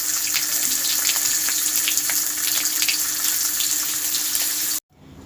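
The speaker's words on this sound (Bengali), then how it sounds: "কটা মুড়োই লাল লাল করে ভেজে নেব" Katla fish heads fry in hot mustard oil until reddish, a loud, dense crackling sizzle that holds steady for several seconds before cutting off abruptly into silence.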